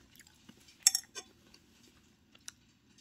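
Spoon stirring bacon cheeseburger soup topped with bacon in a bowl or pot, a few light metallic clinks and scrapes, close and quiet with no talking.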